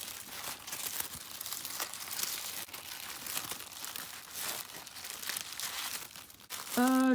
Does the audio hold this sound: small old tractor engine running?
no